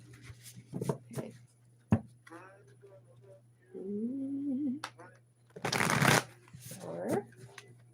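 Cards being shuffled in quick riffling bursts, a few separate shuffles with pauses, plus some low mumbled voice and a steady hum.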